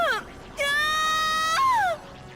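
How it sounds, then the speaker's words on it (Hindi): A scream in a horror story about an Indian army soldier: a loud, high, wavering shriek with a brief cry before it, then a long held wail that bends downward at the end, heard alone. "तभी उसे किन की चीख सुनाई दी"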